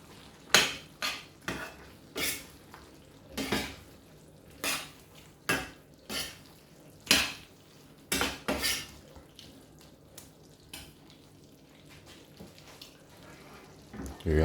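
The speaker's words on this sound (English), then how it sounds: "Give it a bit of stir." Pasta being stirred in a pan, with a series of sharp metallic scrapes and clinks of a utensil against the pan at an irregular rhythm, close and fairly loud, with a faint background hum.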